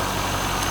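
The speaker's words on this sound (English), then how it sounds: "This is a great low mileage LS1 engine." 1998 Corvette C5 with a low-mileage LS1 engine running, a brief, loud, steady idle drone with an even low rumble and no other sounds.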